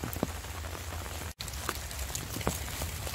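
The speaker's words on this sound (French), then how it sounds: "Parce que là ça pleut vraiment." Heavy rain pours steadily through a forest on a late-December mushroom hunt, a dense, continuous hiss of drops striking leaves and ground, with a few louder nearby splats and no voices.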